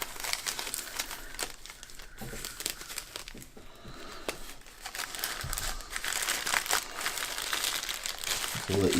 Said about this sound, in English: I'm gonna open this up with my knife